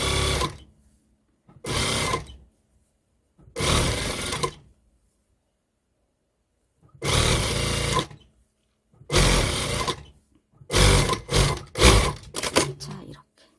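A sewing machine runs a 1 cm seam around the pants fabric in several loud, close bursts separated by pauses, with the last bursts coming short and quick.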